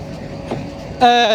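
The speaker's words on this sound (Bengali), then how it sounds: "ইঞ্জিনটা অন্য লাইনে কিন্তু ঢুকে গেল" A train engine switches from one line onto another at Khulna station, heard as a low rumble that ends in a sudden loud, sustained tonal blast for the final moments.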